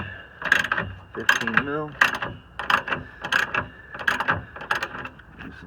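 A ratchet wrench backs off a 15 mm shock nut at the top of the rear shock on a third-generation Dodge Challenger, with several quick bursts of ratcheting clicks close up, interrupted by someone speaking.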